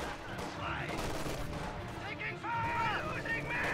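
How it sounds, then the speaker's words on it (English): MG42 machine gun fire rattles in a WWII strategy game battle, steady bursts of gunfire and artillery rumble filling the scene, with a commentator talking over it. "They're just standing under MG42 fire"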